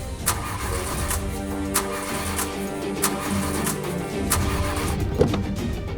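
A car engine cranks over and over without catching, a steady mechanical whir broken by sharp starter bursts roughly every second or so, close and fairly loud with no voices.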